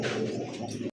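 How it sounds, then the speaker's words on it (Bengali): A pair of black Bombay pigeons give a short, soft, close coo lasting under a second, heard alone without talk. "এই মুহূর্তে দেখতে পাচ্ছেন চমৎকার আরো এক জোড়া ব্ল্যাক বোম্বাই কবুতর"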